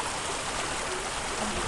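Floodwater rushes through a riverside street during Typhoon Ondoy, a constant broadband roar of flowing water with no pauses, fairly distant and steady.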